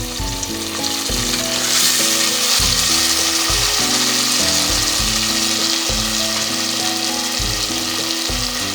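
Onions and garlic sizzle loudly in hot oil as tomatoes are added for a Hindi-style tori (ridge gourd) sabzi, a steady dense frying hiss with intermittent stirring scrapes and clatters throughout, no talking.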